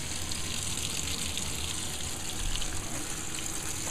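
Hot water runs steadily into a washing machine drum for a diaper wash, a constant close rushing stream with no speech over it.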